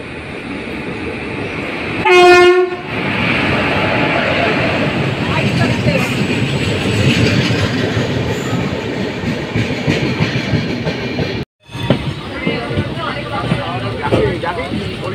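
A late-running passenger train pulls into a station, its horn sounding once near the start before a long rumbling, clattering roll of wagons, loud and close, with voices talking over the noise.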